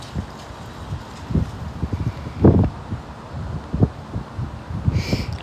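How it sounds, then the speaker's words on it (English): Gusty outdoor wind buffeting the microphone in uneven bursts and rumbling thumps, loud and close, with no speech. "It's getting too windy out here."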